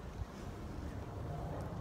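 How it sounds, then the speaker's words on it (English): Cold, strong evening wind buffets the microphone outdoors during a dog walk, a steady low rumbling roar with no talking. "It's another cold and very windy evening dog walk."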